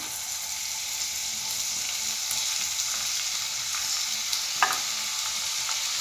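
Ginger garlic paste sautéing in hot oil left over from frying onions for egg biryani, a steady close sizzle with faint stirring clinks and one sharp utensil knock.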